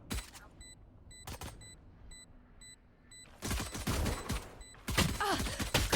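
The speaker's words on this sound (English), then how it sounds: "My second mistake is this panicked gunfight." Gunfire in a panicked video game gunfight: a few sharp isolated shots early on, then two dense bursts of rapid firing that grow louder toward the end, with a faint electronic tone pulsing in the background.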